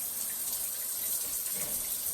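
Rain shower running in a bathroom of a home in the woods, a steady dense hiss of falling water spraying without pause, no voices.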